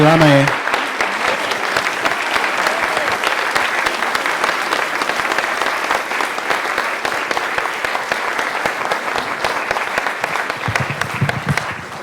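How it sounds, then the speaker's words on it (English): An evening talk audience at Ganondagan gives a sustained, loud round of applause, a steady dense clapping that holds for several seconds. A voice speaks briefly at the start, and the applause tapers slightly near the end. "Give him one more round of applause."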